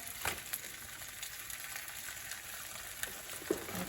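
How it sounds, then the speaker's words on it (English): A tortilla with vegan cheese sizzles steadily in a hot pan, a continuous crackling hiss with a few sharper pops. "Ooh, you can hear it sizzling already."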